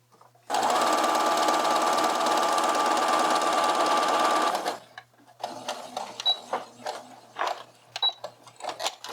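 Sewing machine running a fast continuous stitch along a dress seam for about four seconds, close and steady, then stopping, followed by quiet handling clicks and fabric rustle.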